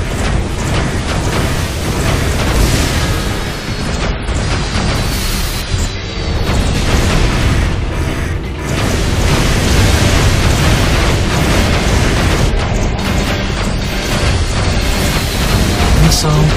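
A missile blows up in the Iron Man video game, a loud, sustained roaring blast with dense rumble and crackle that fills the whole stretch and swells again toward the end.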